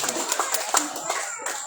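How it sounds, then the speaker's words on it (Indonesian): A few scattered, fairly faint hand claps at an Indonesian Independence Day eve gathering (Malam Tirakatan, 80th anniversary), brief and uneven, with voices talking over them. "Beri tepuk tangannya"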